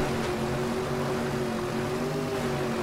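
A helicopter in the video game Saints Row 2 gives off a steady, continuous rotor and engine drone with a low hum, holding even and moderately loud for the full few seconds.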